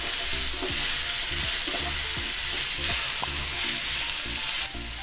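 Tomato, garlic, green chili and ginger sautéing in a pan for misal, with a loud, steady sizzle up close and a few rhythmic scrapes and stirs of a spatula, no voices.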